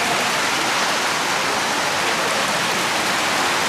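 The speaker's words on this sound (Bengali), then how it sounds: "এখন কিন্তু আবার শিলা বৃষ্টি শুরু হয়েছে" Steady hailstorm rain pouring down in the mountains near Narkanda on the route to Spiti Valley, a dense unbroken hiss of falling rain and hail, loud and continuous throughout with no voices.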